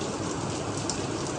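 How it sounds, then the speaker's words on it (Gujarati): Rain begins to fall in a steady, dense patter, an even hiss of drops on surfaces close by with no voices over it. "એ વરસાદ તો ચાલુ થઈ ગયો લ્યો."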